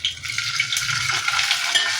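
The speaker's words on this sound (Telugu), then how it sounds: "నేనైతే తాలింపు గింజలు వేసుకుంటున్నానండి" Tempering seeds crackling and sizzling in hot oil in a pan while cooking paneer rice, a close, steady hiss with scattered pops and light stirring noises, no talking.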